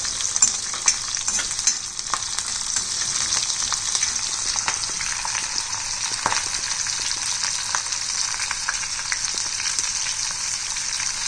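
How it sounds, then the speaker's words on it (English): Green chili sautés in a hot pan, giving a loud, constant sizzle with scattered crackles and spatula scrapes, and no voices. "green chili, and saute this till golden brown."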